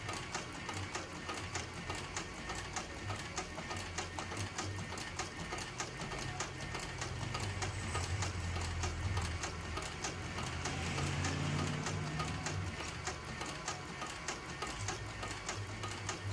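Sewing machine stitching a pocket paddle, running in a steady continuous mechanical whir with rapid ticking needle strokes, moderately loud and close throughout with no talk.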